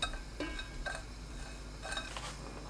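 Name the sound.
stir-frying dried anchovies in a pot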